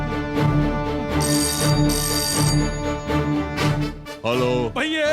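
A telephone rings in a phone-call scene of a Hindi-dubbed action film, repeated bursts of ringing over loud film music, ending in a swooping tonal sound.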